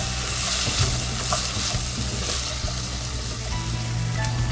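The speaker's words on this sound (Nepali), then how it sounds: "हामीले एस्पारेगसलाई चाहिँ बीचबीचमा यसो खोलेर पनि चलाउँदै हेर्नुपर्छ।" Asparagus curry with bell peppers frying in a pan over low heat, a steady close sizzle with occasional scraping stirs and no talk.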